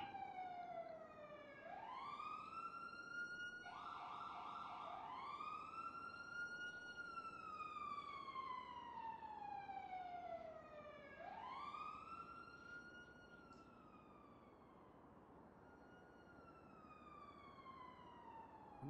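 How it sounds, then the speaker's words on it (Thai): Police sirens in a video game wail in long rising and falling sweeps, a steady electronic tone repeating through the whole stretch, clear but moderately distant, with no talk over it. "เริ่มได้ยินเสียงหวอเพิ่มขึ้นเรื่อยๆแล้วนะ"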